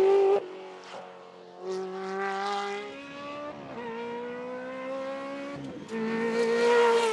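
A Ferrari 360 Modena Challenge race car accelerates hard through the gears, its high engine note rising and dropping with several sharp upshifts, loud and close throughout.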